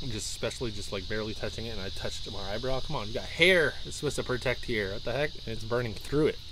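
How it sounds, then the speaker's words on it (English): A steady high-pitched insect buzz, like cicadas, drones outdoors throughout while a person talks close by over it. "You get to hear the cicadas and the red-winged blackbirds and"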